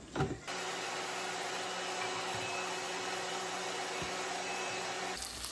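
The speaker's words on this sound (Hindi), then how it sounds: "चलिए इसको जो है ना हम ब्लेंड कर देते हैं।" Blender whirring steadily as it purées fried onions for a mutton masala, a loud continuous motor drone that starts abruptly after a brief clatter and runs unbroken for several seconds before cutting off.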